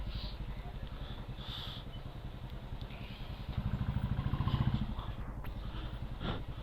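A motorcycle engine chugs steadily while riding uphill in heavy monsoon rain near Kalimpong, rising briefly to a louder rumble before settling back to a moderate, continuous putter.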